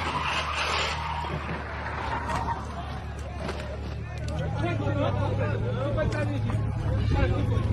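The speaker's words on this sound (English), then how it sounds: "You can clearly hear the intermittent braking before he loses grip." Tires skid and squeal as a car brakes hard with intermittent ABS braking before losing grip, with a crowd murmuring and talking throughout.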